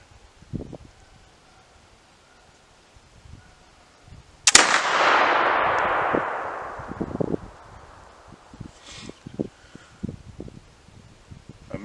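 A Tennessee poor boy flintlock rifle fires at a steel plate: a soft click and short priming whoosh, then one loud boom that rolls and decays over a couple of seconds outdoors, with faint rustling and handling noises around it.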